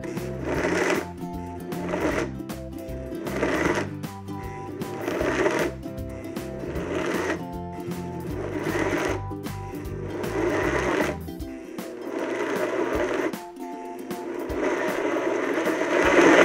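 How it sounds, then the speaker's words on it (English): A blender motor grinding nuts whirs and grinds in repeated pulsing bursts, rising and dipping in a steady rhythm, with a brief pause before it resumes loudly. "Come on, blender."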